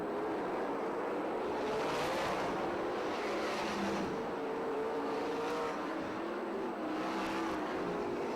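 Sprint cars racing at Perris Auto Speedway, a distant roar of engines rising and fading as cars pass, over a constant wash of crowd and track noise.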